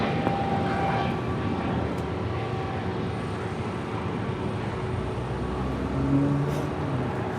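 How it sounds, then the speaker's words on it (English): Airbus A320neo jet takes off from LAX, a loud sustained engine roar with steady broadband rumble and a faint rising whine, heard alone without any voices. "This is Spirit 631 taking off to Atlanta on an A320neo."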